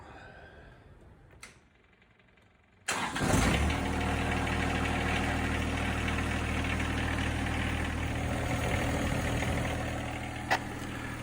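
The engine of a John Deere 1025R compact tractor cranks and fires up after an oil change, then idles steadily with a low, even drone, close by.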